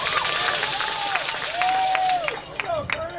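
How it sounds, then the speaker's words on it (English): A high school baseball crowd at a Frisco Reedy playoff game against the Longview Lobos keeps up a steady roar of cheering, with shrill whistles rising and falling above the noise. "the Reedy crowd seems to be more into this one than they were the first"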